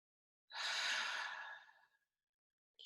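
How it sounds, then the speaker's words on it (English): A single deep, slow exhalation during a guided breathing meditation, close and clear, lasting about a second and a half before trailing off, followed by a brief faint breath. "Continue breathing deeply."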